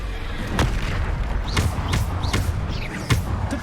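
Bombarda spell explosions in Hogwarts Legacy on PS5 land as a string of about six sharp, booming blasts at irregular intervals over a steady rumbling game background.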